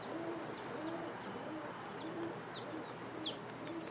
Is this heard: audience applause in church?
no